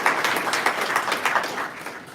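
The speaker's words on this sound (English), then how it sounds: "Please give a round of applause for Mr. Tracy Martin." Audience applause at a congressional briefing on gun violence, a brief steady patter of many hands clapping at moderate loudness with no speech over it.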